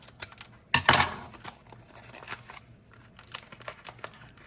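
A seasoning pouch from a carrot cake kit is cut open close by with one sharp crinkling snip and rustle of plastic film, followed by quieter scattered crinkles and small handling taps.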